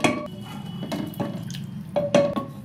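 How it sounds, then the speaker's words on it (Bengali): Fried khichuri mix of rice, lentils, spices and vegetables tipped into hot water in a pot, giving a few short splashing, dripping bursts with light clinks, close and moderately loud with no talk. "যে খিচুড়ি চাল ডাল মশলা সবজি সব একসাথে যেগুলো ভেজে নিলাম, সেগুলো এর মধ্যে দিয়ে দিচ্ছি"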